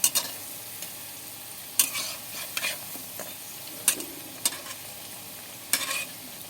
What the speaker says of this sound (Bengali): এরকম হালকা লাল লাল করে ভেজে নিচ্ছি